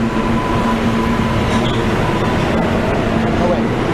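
An F train at the 6th Avenue subway station in New York gives a loud, steady underground rumble with a faint wheel squeal running throughout, without pause.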